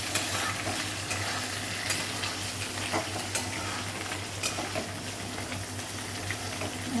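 Pieces of taro (chamadhumpa) fry in a pan, giving a continuous close sizzle with occasional stirring scrapes and a low steady hum underneath, no talking.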